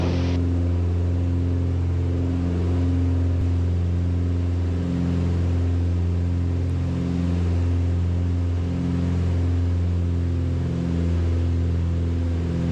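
Twin engines of a Beechcraft Baron drone steadily in the cabin during the climb after takeoff. The loud, continuous hum has a slow beating pulse, heard alone.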